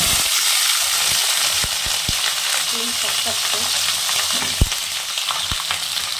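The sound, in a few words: frying flat beans (sim) in a pan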